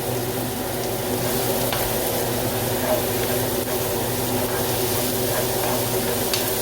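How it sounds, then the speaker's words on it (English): Tomato and garlic sautéing in a pan for spaghetti with chorizo, a soft, even sizzle holding steady throughout with only a few faint stirring clicks. "saute the tomato for a bit and add"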